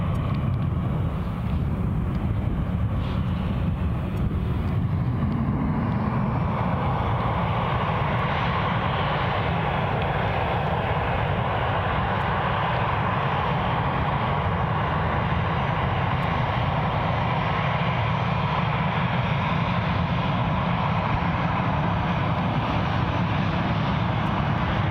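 easyJet airliner at Glasgow International Airport: a loud, continuous jet engine roar holds steady throughout, close and unbroken, with no voices.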